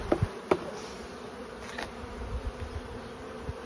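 Honey bees buzz steadily at an open hive holding brood frames, with a few sharp knocks and taps from handling standing out over the continuous drone.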